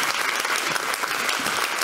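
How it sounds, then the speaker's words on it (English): An audience at a cybersecurity conference in a hall applauds a minister's arrival on stage, with dense, steady clapping from many hands and a loud, sustained wash of sound. "A warm welcome and a nice applause."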